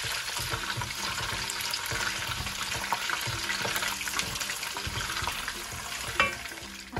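Dried shidol shutki fish sizzles in hot oil in a pan, a soft steady crackle broken by scraping and stirring clatter, with no one speaking.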